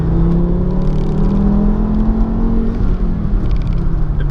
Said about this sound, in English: You can hear the turbo pretty good.